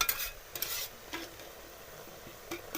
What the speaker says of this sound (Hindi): अब हमने इसके अंदर घी डालना है,